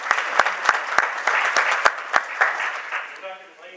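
An audience at a North Texas alumni debate event applauds to welcome Congressman Dr. Michael Burgess, with steady close clapping and a few sharp individual claps that fade out toward the end.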